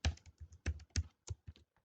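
Short burst of typing on a computer keyboard while code is entered: about a dozen crisp, close key taps in an uneven rhythm, quiet overall with no talking.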